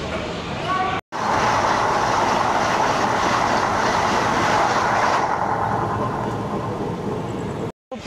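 Black Diamond Express train pulling into Raniganj station in West Bengal: a loud, continuous rumble and rattle of railcars rolling steadily alongside the platform, with brief dropouts at the start and end.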